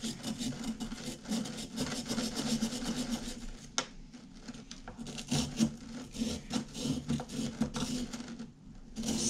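Steady scraping and rasping as a tool cuts into the packed sand block of a Super Gold Dig It kit, continuous close gritty rubbing with a brief sharp tick partway through.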